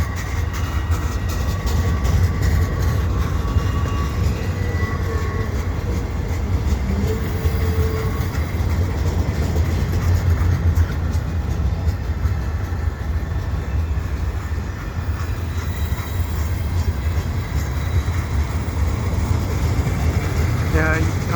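Freight train of CN boxcars rolling past Lachine commuter station in winter, a steady, loud low rumble of wheels and cars running continuously close by without a break.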